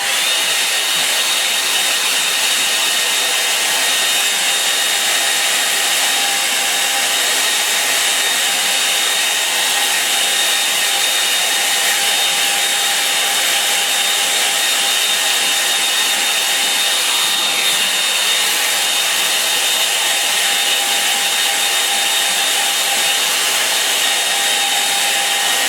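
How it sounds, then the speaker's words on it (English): A hair dryer blows steadily over a wet watercolour painting of a Norfolk village, a close, continuous airy whir with a constant motor whine that holds unbroken for the whole stretch, with no talking. "Hair dryer going on now."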